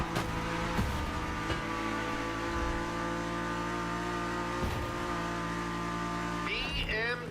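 BMW sports car engine in the racing game The Crew Motorfest, a steady droning hum with harmonic tones that climbs into a sharper rev near the end, loud and close.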